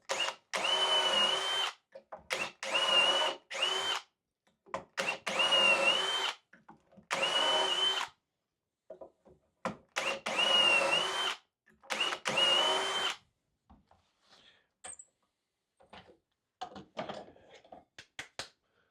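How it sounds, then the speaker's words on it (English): A power drill bores dowel holes in wood through a Dowelmax jig, whirring in repeated short bursts of several seconds with pauses between, followed by quieter scattered tool clatter near the end. "I usually bring the drill out once, halfway, to help clear chips out of there."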